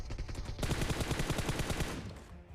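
Rapid automatic gunfire from Battlegrounds Mobile India, dense bursts of overlapping shots crowding close and loud for most of the stretch, then easing off near the end.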